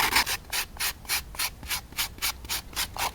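A recycled foam-tray model airplane wing is sanded by hand in quick, even back-and-forth strokes, about a dozen rasping passes, close and alone.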